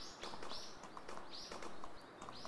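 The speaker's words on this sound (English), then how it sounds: "What are these random horses everywhere?" Horses walking in the game DEEEER Simulator, faint repeated hoof clip-clops in an irregular rhythm, mixed with chirping birds in the background.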